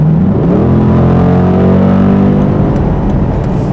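2008 Dodge Challenger accelerating, its loud engine note sweeping upward in pitch and then holding a strong, steady roar, close and uninterrupted from start to finish.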